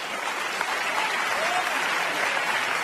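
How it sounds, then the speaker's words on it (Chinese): Snooker fans in an arena applaud warmly, a dense, even wash of clapping from a large crowd that holds steady for about three seconds. "现场的球迷掌声非常的热烈"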